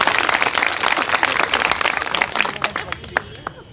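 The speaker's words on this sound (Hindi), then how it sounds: "ताली बजा दी इसके लिए भी।" An audience claps loudly at a public gathering, the applause thinning into scattered claps toward the end while a speaker's voice carries over it.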